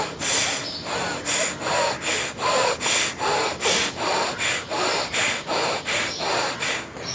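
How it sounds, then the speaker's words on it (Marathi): Forceful bhastrika yoga breathing through the nose, a steady run of about a dozen loud, rasping breaths pumping in and out at an even rhythm, close up with no talk. "फक्त श्वास घेताना जितका आवाज येतो तितका सोडताना सुद्धा येऊ देत"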